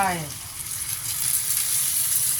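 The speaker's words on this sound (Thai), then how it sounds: "ใส่น้ำจ้ะ ใส่น้ำเข้าไป" Water hits a hot frying pan of eggplant, minced pork and basil, bursting into a loud hiss that settles into a steady close sizzle with no talking over it.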